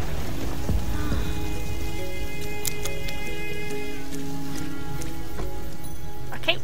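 Rain on a stormy night in the video game Wild Season, a dense steady patter filling the whole stretch, with faint tonal game sounds layered over it.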